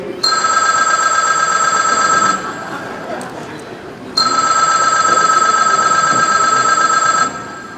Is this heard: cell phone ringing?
yes